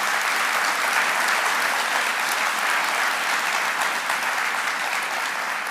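A large audience at a college convocation claps in a dense, even roar of applause that stays loud and steady throughout.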